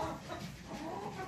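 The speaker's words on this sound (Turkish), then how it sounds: "Arkadaşlar şu an burada da 3 tane yedek horozumuz var." Chickens and roosters, including Black Americano and white Zigorin roosters, clucking in a busy coop, continuous overlapping calls at moderate distance, no talking.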